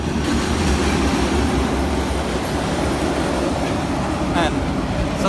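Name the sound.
train passing a crossing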